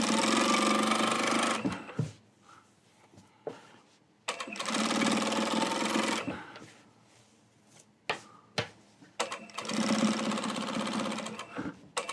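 A sewing machine top-stitching a seam runs in three steady bursts of fast, whirring stitching, with quieter clicks and fabric handling in the pauses between runs.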